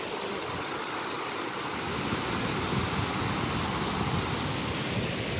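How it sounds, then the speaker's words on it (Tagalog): Heavy typhoon rain pours steadily in Yuen Long, a dense, unbroken roar like rushing water that swells slightly louder partway through, with no voices over it. "Lakas kasi ng ulan."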